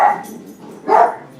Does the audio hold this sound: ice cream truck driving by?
no